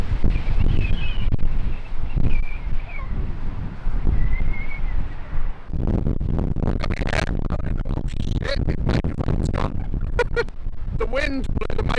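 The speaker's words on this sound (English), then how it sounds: "this wind is not letting up" Strong storm wind buffets a small camper van at a farm campsite, a continuous loud, rough roar with gusty surges and microphone buffeting throughout, building harder in the second half.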